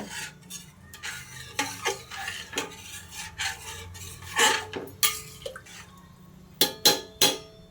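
A spoon stirring rice in a pressure cooker, a series of sharp metallic scrapes and clinks against the pot at an uneven rhythm, close by and fairly loud.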